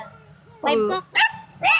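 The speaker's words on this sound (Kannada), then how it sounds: "ನಾಯಿಗಳ ಕಟ್ಬಿಟ್ಟಿದ್ದಾರೆ ನಾಯಿಗಳು ಎರಡು ನನ್ನ ನೋಡಿ ಬೊಗಳ್ತಾ ಇದ್ದಾವೆ" Two tied-up village dogs in the Philippines bark at a stranger, three sharp close barks with short gaps, over a low background hum.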